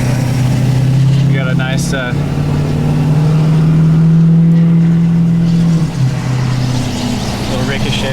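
A 6.7 Powerstroke diesel pickup towing in tow haul mode drones loudly and steadily from the cabin, its engine pitch rising and settling during the pull, while someone talks briefly over it.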